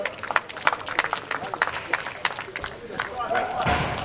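An audience at an outdoor painting contest prize-giving at an eel festival claps for a winning painter, a loose patter of hand claps under an announcer's voice.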